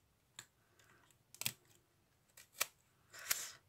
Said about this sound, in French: On prend du scotch.